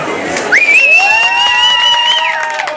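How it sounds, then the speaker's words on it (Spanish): Audience at a band's music presentation in Cuautla cheers, with one loud sustained whistle rising and holding over steady crowd noise and faint clapping. "¡Fuerte el aplauso, que se escuche, venga!"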